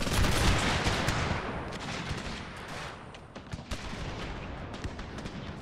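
Musket volleys in a Total War battle set in the Thirty Years' War, a loud opening crash of massed gunfire followed by continuing crackling shots and scattered reports.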